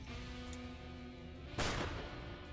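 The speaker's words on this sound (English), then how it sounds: "so we'll just shoot him" A single sharp gunshot cracks out in the Empire of Sin video game, loud against a steady low ambient hum, then fades into lingering reverb.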